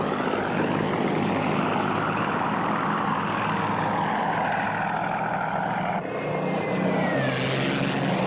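Loud, close droning roar of WWII P-51 Mustang fighter engines in an aerial battle against German fighters, with a steady propeller hum that shifts in pitch near the end as an aircraft sweeps past.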